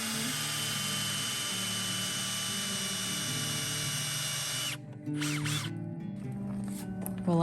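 A steady, loud drill whines continuously for several seconds boring holes into a log, then cuts off, followed by lighter rustling and short mechanical sounds with a voice nearby.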